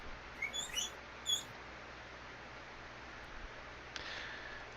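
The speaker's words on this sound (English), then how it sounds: "Piggies, I have no food for you." A few faint, high-pitched guinea pig squeaks come in quick bursts at the start, followed by a quiet room with soft rustling.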